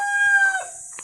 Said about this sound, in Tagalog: Laki ng manok